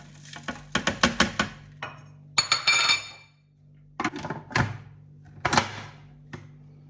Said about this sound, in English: We start by putting the garlic, the salt,